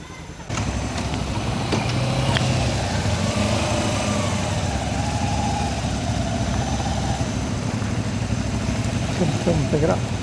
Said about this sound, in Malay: Kita start motor.